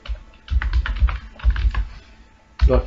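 Typing C code on a computer keyboard during a programming tutorial: rapid clusters of close, crisp key clicks in several bursts separated by short pauses, with no voices.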